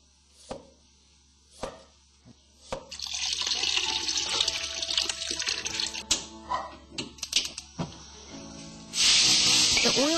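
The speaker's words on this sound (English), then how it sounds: "The oil in the wok makes the same noise when the vegetables are thrown in" Vegetables tossed into hot oil in a wok, giving a loud, sustained sizzle and hiss after a few sharp clatters of utensils, with a final burst of fierce frying near the end.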